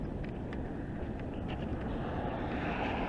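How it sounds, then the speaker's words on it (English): Steady wind roars outdoors, a continuous broadband rush buffeting the microphone with low rumble and no pauses for the whole stretch, loud and close with no other sounds standing out. "It's windy out here"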